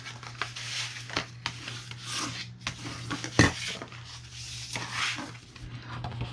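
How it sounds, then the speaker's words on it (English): Scored paper being folded and burnished by hand, giving soft rubbing and scraping strokes with a few sharper taps and one loud crisp knock midway, close and fairly quiet with a steady low hum beneath. "So now we need to fold and burnish all of our scores."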